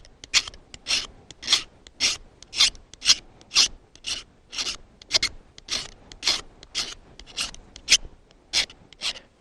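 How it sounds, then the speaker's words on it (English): Metal scraper strokes shave magnesium from a fire-starting tool, giving about a dozen steady, close, loud rasping scrapes in an even rhythm, with no voices. "I've just taken the fire starting tool here and shaved off a pile of the magnesium."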